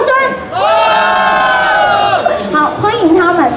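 An audience at a stage dance event screams and cheers loudly, a sustained chorus of high-pitched shrieks from many voices that rises, then breaks into scattered whoops and shouts.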